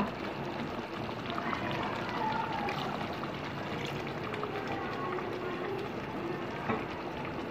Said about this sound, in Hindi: अब हम इसमें अपने अंदाजे से पानी डालेंगे जितना हमें सालन चाहिए।